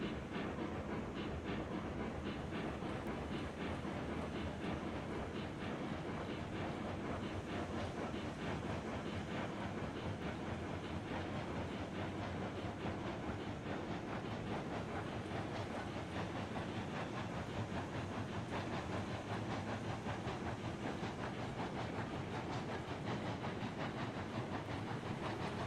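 A log-laden train rolls steadily through Railroads Online, a continuous broadband rumble with faint rail clatter and hiss sustained evenly throughout, no voices.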